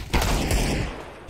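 A gunshot in the video game CS:GO, a single sharp report followed by a brief rumbling tail in a quiet moment of play.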